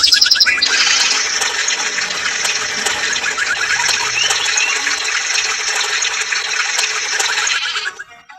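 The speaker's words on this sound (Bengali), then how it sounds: "চলো পানিটা ভরে নিই আগে।" Water gushes steadily into a container in a village farming video game, a loud continuous rushing splash with faint bird chirps in the background, cutting off sharply at the end.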